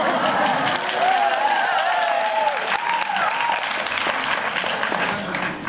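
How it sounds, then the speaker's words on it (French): Cinema audience at the Paris premiere of Horns, with Daniel Radcliffe and Alexandre Aja present, claps in a long, thick, sustained ovation while a voice speaks over the crowd near the mic. "On applaudit encore une fois, s'il vous plaît."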